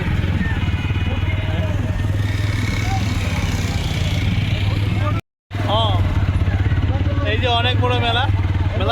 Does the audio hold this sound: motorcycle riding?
yes